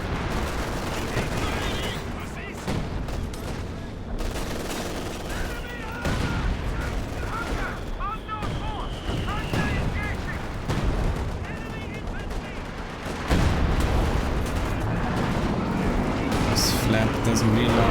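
Sector artillery shells rain down in a competitive tank video game match, heavy booming impacts and crackling bursts layered over engine noise, while a commentator talks throughout.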